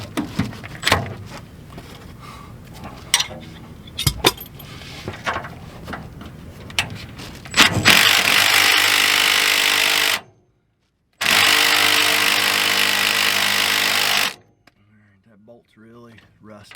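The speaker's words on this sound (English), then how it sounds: "my Milwaukee M18 impact today, because I just don't want to be here all day turning this stuff by hand." A Milwaukee M18 impact driver loosens rusty bolts on an RV slide room: two sustained loud bursts of hammering whir, preceded by clanks and tool handling with some talk, then quiet.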